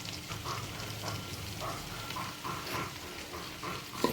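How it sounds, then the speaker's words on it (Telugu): Cut onion pieces fry with chicken in oil, giving a soft, steady sizzle with intermittent stirring scrapes and clatter, close but fairly quiet. "ఇప్పుడు ఇందులో మనము కట్ చేసుకున్న ఉల్లిపాయ ముక్కలు అయితే వేసుకోవాలి"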